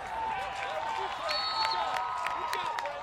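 A crowd at a college lacrosse game cheers and applauds after a goal near the crease, a steady, fairly distant roar with scattered claps, whistles and shouts running throughout, under a commentator's voice.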